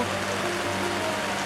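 Steady rain pours down during a heavy downpour, a dense, continuous hiss of drops on surfaces, loud and close throughout.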